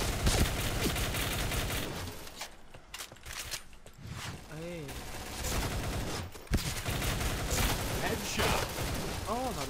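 Gunfire erupts in the online shooter Point Blank as a new MSBS rifle and other weapons fire in dense rattling bursts. Excited voices shout over the shots, and the firing dips briefly before resuming loud and continuous.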